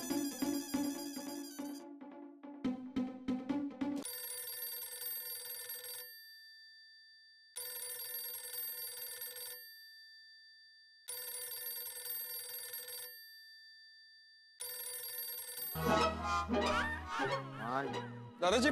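A telephone ringing inside a house, with repeated electronic ring bursts separated by short silences, clear and fairly close, followed by a burst of music at the end.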